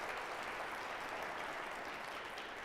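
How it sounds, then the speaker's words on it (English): An audience at a comedy evening claps in a soft, steady, even wash of applause that sounds distant and fairly faint, with no voices over it. "Yes, you can clap this."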